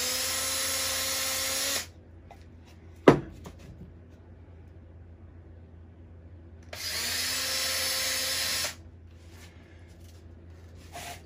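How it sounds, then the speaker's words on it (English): Power drill boring a small hole through wood for a homemade suet feeder, two loud sustained whirring bursts separated by a sharp knock and quiet. "drill a hole just big enough for that coat hanger."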